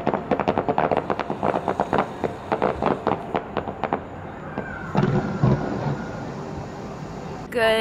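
A steady run of firework explosions thumps from a hotel balcony at Universal Orlando Resort, many evenly spaced booms at first, then thinning into scattered cracks and a rumbling tail, with faint background chatter.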